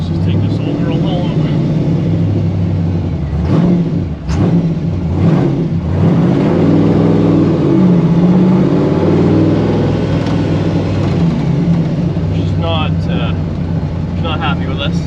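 A 1955 Chevy Nomad gasser driving on the road, its engine a loud continuous rumble with rising and falling revs and steady road noise throughout.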